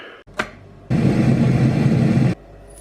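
Hot water pours from a kettle in a steady, loud, broadband rush lasting about one and a half seconds. A brief clink comes just before it.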